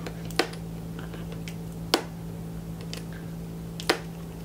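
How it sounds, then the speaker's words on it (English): Monkey wrench scraped against the glass screen of an LG Google Nexus 4 phone, three brief, sharp, close scratches spaced evenly apart over a steady low hum. "Monkey wrench."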